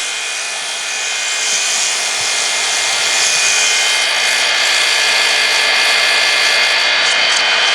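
Wood lathe spinning at 3200 RPM while 150 grit sandpaper is pressed to the turning piece, giving a loud, steady high-pitched whir with a slight rise in intensity over several seconds.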